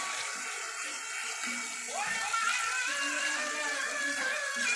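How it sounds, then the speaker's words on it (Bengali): Water being poured into a cooking spice masala for egg curry, a soft trickling pour building after a moment against a quiet kitchen hiss, close and fairly faint. "এবার আমি সামান্য একটু জল দিয়ে দিচ্ছি।"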